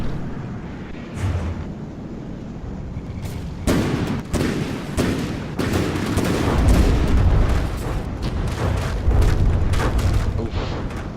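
A tank in a video game battle being hit by friendly fire, with a burst of loud booming blasts and rapid gunfire-like impacts that swell into a sustained rumbling barrage, with no speech.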